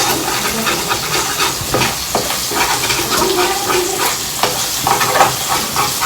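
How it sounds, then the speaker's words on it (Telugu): Fish coated in onion masala frying in a pan, a loud close sizzle with continual stirring and scraping, no talk. "తిప్పి మళ్ళీ ఫ్రై చేసుకోవాలి."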